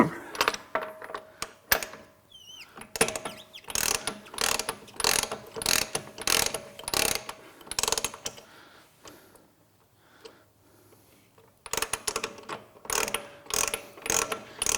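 A ratchet wrench clicks in quick repeated bursts while loosening a suspension ride-height adjuster on a 2014 Porsche GT3, close and crisp, with brief pauses between strokes and no talk.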